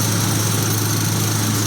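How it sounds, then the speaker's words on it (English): A pipe drilling rig engine runs at a constant, loud, buzzing drone throughout, close by and with no voices. "this is another type that can drill the pipe"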